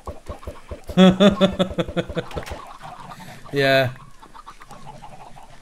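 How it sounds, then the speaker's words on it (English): Chickens clucking in the Minecraft Hexxit mod, a crowd of game fowl producing rapid, loud bursts of clucks in quick succession, then a sharp squawk, mixed with a brief spoken word. "This, all this amount of, chickens, well, any mobs, it's a crazy amount"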